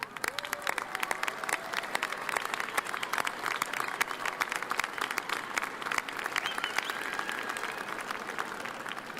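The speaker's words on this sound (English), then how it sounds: "Please stand and give your friends, family a round of applause." A large audience applauds at a university fall commencement ceremony, a dense steady wash of many hands clapping that carries on for several seconds in a big hall, moderately distant.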